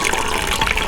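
Water poured over soy pulp to rinse it while making homemade tofu, a brief close, loud gush of liquid filling a container.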